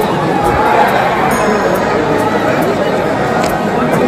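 A dense crowd of devotees at the Dagadusheth Halwai Ganpati temple in Pune makes a continuous loud wash of hubbub and murmuring voices that holds steady throughout.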